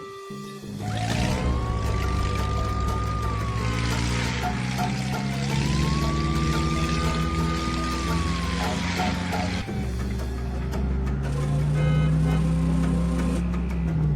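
Cartoon car siren wailing in two long rising-and-falling sweeps over a steady vehicle hum and background music, fairly loud and close, then cutting off as the engine drone continues.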